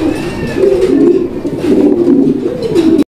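Pigeons at a fancy pigeon seller coo steadily and loudly at close range, with soft overlapping rolling calls continuing without a break for about three seconds.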